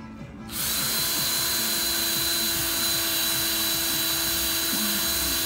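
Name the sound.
drill spinning steel wool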